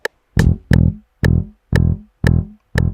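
Dingwall electric bass plays a slow, rhythmic grouping of short, punchy notes in 4/4 at uneven spacing, about seven notes in all, close and clear with no talking.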